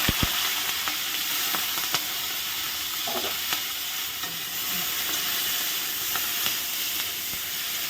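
Garlic and green chili frying in a pan, a steady close hiss and sizzle with a few sharp crackles and light stirring clicks, no talk.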